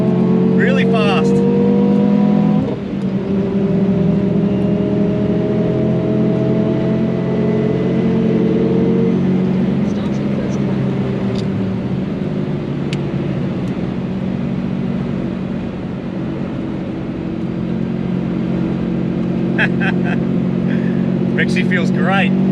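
A Subaru WRX STI driven hard on a race track lap, its engine droning loudly from inside the car with rising and falling revs and gear changes, the driver talking over it.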